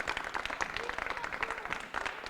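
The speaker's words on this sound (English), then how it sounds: "So you can give him a round of applause" Small audience at a spring poetry club reading clapping for a young reader, dense steady clapping close by, with faint voices underneath.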